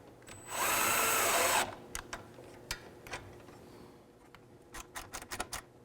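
A power drill spins a bolt in with a key while fitting a swaybar on a 2020-or-later Can-Am Spyder RT, one loud close whir of about a second, followed by scattered light clicks and taps.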